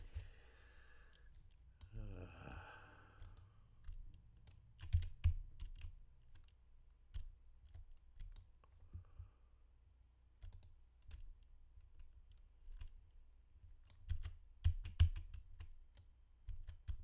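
Quiet computer keyboard typing and mouse clicks while playing an online role-playing game, scattered taps and short clusters of keystrokes across the whole stretch, with a sigh or breath near the start.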